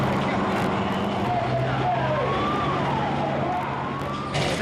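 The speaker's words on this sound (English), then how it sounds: "Eventually, some kind of emergency vehicle managed to get through." An emergency vehicle siren wails in rising and falling sweeps in a small town hit by the 1999 Taiwan earthquake, loud and fairly close over a constant rumble of background noise.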